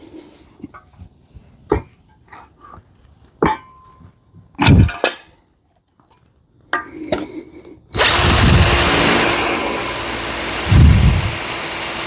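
Step drill bit boring through material with a power drill: several short bursts of cutting and squealing, then a loud sustained run of drilling up close, all without talk.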